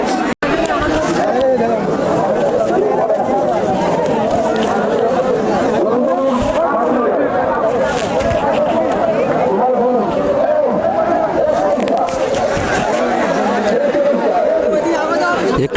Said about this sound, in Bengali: প্রচুর জনতার ভিড়।